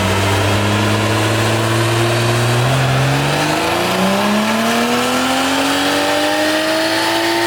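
A turbocharged Toyota Supra engine revs loud and close, its pitch climbing steadily under a rising, sustained roar with no talking.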